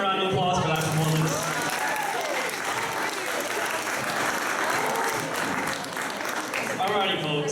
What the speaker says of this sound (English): Can we get another round of applause for that performance?